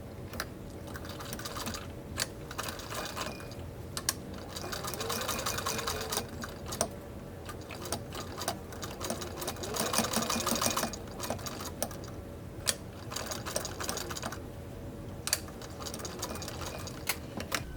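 Domestic sewing machine stitching a fabric face mask with elastic at the ends, running in steady bursts with brief pauses, close and clear with no talking.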